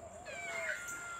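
A single soft cat meow, faint and close, rising and falling for about a second indoors.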